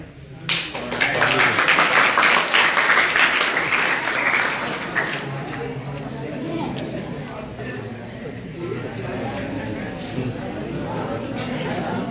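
A crowd gives loud, dense applause for a guest at a school gathering. It swells at once, then thins into lighter clapping and murmured chatter.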